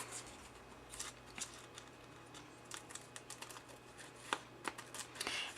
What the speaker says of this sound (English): I'm just going to take my scissors and I'm just going to cut the excess off.